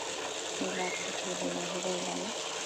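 Water gushes steadily from a tap in a continuous rush, with a faint low hum underneath, as a cow is given water to drink.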